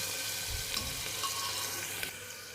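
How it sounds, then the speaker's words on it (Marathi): Ginger garlic paste fries in a pan with a soft, even hiss and faint bubbling, quiet and close, with a couple of light stirring touches. "चांगली फ्राय झाली अद्रक लसूणची पेस्ट."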